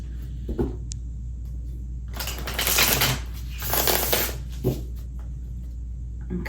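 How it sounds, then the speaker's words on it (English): Two bursts of playing cards being shuffled, a fluttering riffle each lasting about a second, with a few soft taps of cards around them. "I'm counting the shuffles with you"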